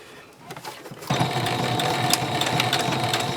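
A sewing machine starts up and stitches a fabric face mask, its motor whirring in a steady fast hum after a few quiet handling taps.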